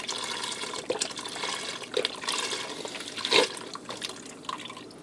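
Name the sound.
pouring beef broth into an Instant Pot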